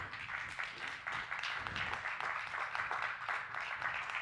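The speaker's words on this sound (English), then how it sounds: "Give the children a round of applause." An audience applauds children at a gathering with continuous, dense clapping that holds steady for a few seconds and has no speech over it.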